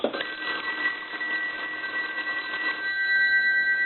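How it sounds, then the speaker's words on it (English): Mechanical bells of an A&E Monophone rotary desk telephone, its body removed, ring in a rapid continuous metallic trill for nearly three seconds, then stop, leaving a steady tone, loud and close. "I have the body off the telephone because I wanted to show the bells ringing"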